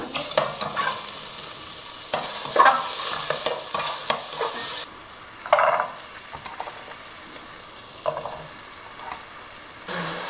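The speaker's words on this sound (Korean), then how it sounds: "버섯부터 볶을게요." Mushrooms stir-frying in a pan for a Korean vegan dish, a loud close sizzle with repeated scraping stirs and clatter, one abrupt drop in level midway, then more bursts of tossing and frying; no voices.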